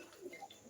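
Faint, brief soft cooing from a pigeon of the kuda terbang type, a couple of low murmuring notes that sound close but quiet, with no talking.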